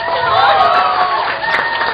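An audience at a Mister Pogi pageant claps and cheers for a contestant in a dense, lively burst of clapping mixed with shouts and whoops, close and loud.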